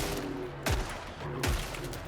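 Two loud gunshots from Killing Floor 3, spaced under a second apart, each a sharp crack dropping into a low boom, over a continuous low game hum.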